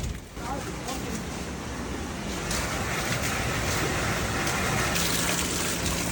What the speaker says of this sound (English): It's geysering out of a pipe.